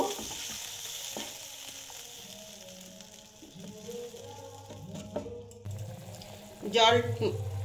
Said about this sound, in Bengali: এখন আমি এর মধ্যে দিয়ে দেব জল